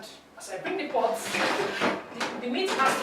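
A cooking pot of stockfish and meat for Nigerian afang soup is shifted on the stove in a natural kitchen, producing close scraping and clunking metal sounds in a few bursts while someone talks over it.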